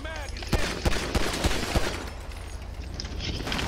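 Gunfire in the GTA V police mod LSPDFR, a quick run of five or six sharp close shots over a loud, noisy background, with a voice talking over it.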